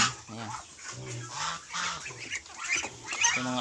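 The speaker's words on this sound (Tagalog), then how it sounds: "yung mga alaga kong itik." A small flock of farm ducks kept on a rural Philippine backyard farm quack and honk busily up close, overlapping calls in a noisy chorus.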